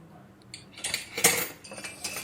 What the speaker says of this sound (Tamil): சுகர் நல்லா மெல்ட் ஆகிற அளவு வரையும் நல்லா மிக்ஸ் பண்ணுங்க